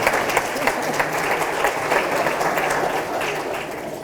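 Steady audience applause fills a jury assembly room during a courthouse dedication ceremony, a dense, even wash of clapping that continues at constant strength throughout with only faint voices beneath.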